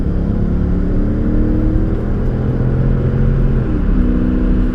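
A 2008 Jaguar XJ8 with a rebuilt title, heard from inside while driving: a steady, loud low engine drone and road rumble, revving gently with no talk.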